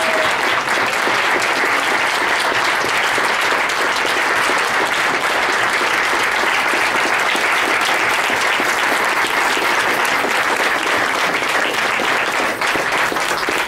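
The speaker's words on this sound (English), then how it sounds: "while we all give them a huge round of applause" A dinner audience gives the standing Asha team a long, loud round of applause. Dense, even clapping fills the whole stretch without a break, with no voices rising above it.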